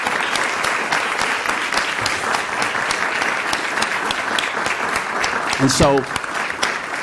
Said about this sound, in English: Can we give them a round of applause for being here?